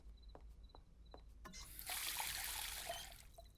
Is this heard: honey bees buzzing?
no